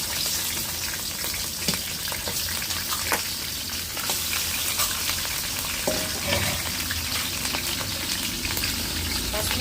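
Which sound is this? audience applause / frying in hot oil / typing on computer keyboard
frying in hot oil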